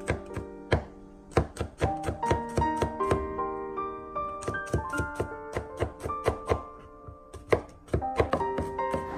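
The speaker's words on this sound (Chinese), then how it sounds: "再改刀把大蒜切成蒜末" A knife mincing sliced garlic on a chopping board, rapid sharp chops in uneven bursts of close taps, with background music playing and no speech.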